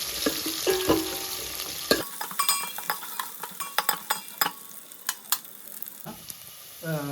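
Green chilli, garlic and ginger sizzle in hot oil for a South Indian cabbage kootu, a steady crackling fry broken by sharp clinks and scrapes of stirring, the sizzle dropping away briefly before returning near the end.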